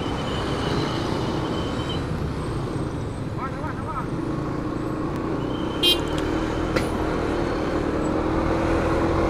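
Heavy six-wheeled trucks and other traffic rumble along a damaged road on the way from Demak toward Semarang, a constant loud broadband drone with faint horn toots, heard from inside a vehicle while someone talks.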